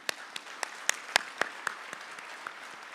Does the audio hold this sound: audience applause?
yes